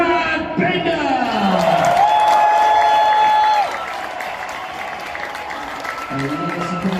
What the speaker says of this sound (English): I'm sure this is going to get a huge round of applause for the Red Bull KTM team.